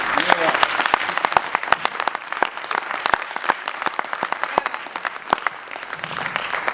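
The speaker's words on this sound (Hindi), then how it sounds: "कविता शुरू करने से पहले उस पर मुझे ताली चाहिए" An audience at a Hindi poetry recital claps, many sharp individual hand claps scattered densely over several seconds, loud and close, with some murmuring beneath.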